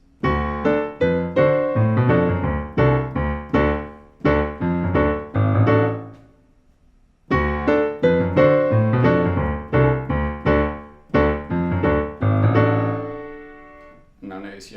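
Piano chords strike on the offbeat in a bouncy, repeated rhythm over a held top C, each chord hit sharply then decaying, in two phrases separated by a brief silence; no talking.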